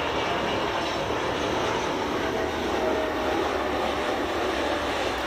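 An Airbus A380 airliner roars through its landing with a steady, loud, broadband engine and air rush that holds constant from start to finish, with no voices.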